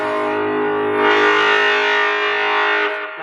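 Electric guitar run through an overdrive pedal with treble at maximum, a bright, buzzy distorted chord sustained for about three seconds at steady loudness before it cuts off.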